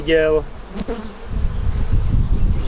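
Honeybees buzz around a hive during a nectar flow, flying close past the camera; a sharp nearby whine at the start gives way to a steady, busy hum of many bees.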